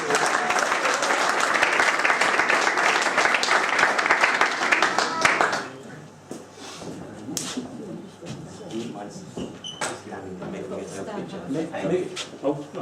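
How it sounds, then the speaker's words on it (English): At a diamond jubilee party, an audience gives a warm round of applause as people are called up, dense clapping for about five seconds, then fading into scattered claps under a speaking voice. "Perhaps you'd just like to give them a little round of applause as they come up"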